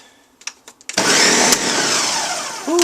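A few short clicks and knocks, then a blender starts blending compost scraps for worms, a loud, steady whirring roar that holds for about two seconds before a slight change at the end.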